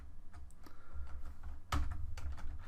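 Close, quick typing on a computer keyboard, a rapid irregular patter of key clicks with one sharper keystroke, heard on its own without talk.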